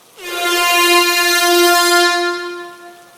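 A truck horn blasts one long, deep, loud note that holds steady for over two seconds before fading, with nothing else heard around it.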